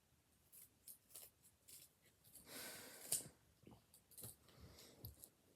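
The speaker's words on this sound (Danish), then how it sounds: "saks." Scissors snipping open a package, a series of soft, quick cuts and rustles spread through a few seconds, faint and close, with one sharper snip near the middle.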